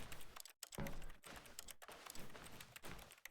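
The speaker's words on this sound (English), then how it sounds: "I like the sound effects of just the keyboard typing whenever you just click on random things" Keyboard typing sound effects from the video game The Stanley Parable: quiet, steady clicking keystrokes in irregular quick runs with brief pauses between them.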